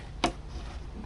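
A ratchet crimping tool clicks once onto an RCA lead connector, a single sharp close click over a quiet background hum.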